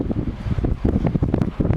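Strong outdoor wind gusts of around 30 mph buffet the microphone, giving a loud, rumbling, uneven roar that swells and dips throughout with no talk.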